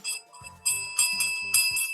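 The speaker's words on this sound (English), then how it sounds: "I had to go grab my cat's bell" A small bell from a cat's collar jingles in quick bright bursts, rung about four times in a row, close and clear with a faint low rattle under each shake and nothing else heard.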